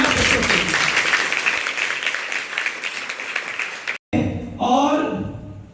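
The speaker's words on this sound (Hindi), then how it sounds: "जोरदार तालियां उन कामयाब बच्चों के लिए।" Loud, sustained applause from an audience at a school parent-teacher meeting, close and dense for about four seconds, cutting off abruptly before a voice speaks.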